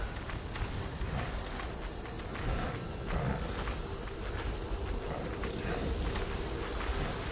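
Horse hooves clip-clop in Skyrim, a faint, steady run of soft hoofbeats under low ambient outdoor noise, with no talking.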